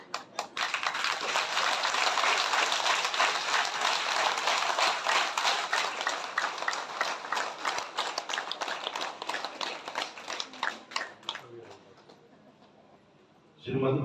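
At a religious discourse, a crowd claps steadily and densely for about eleven seconds, loud and continuous, before the applause thins out and fades. A voice comes in at the very end.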